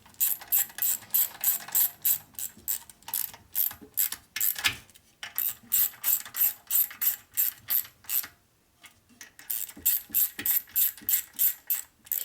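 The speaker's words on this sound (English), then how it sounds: "Okay, just put light tension on it, and then we go to the work our way around the bolt pattern here." A socket ratchet clicks in quick, steady runs of strokes, tightening bolts in a radial pattern on a 1961 Harley-Davidson Sportster XLCH during a motor and transmission rebuild. Close, crisp ratcheting comes in bursts separated by brief pauses.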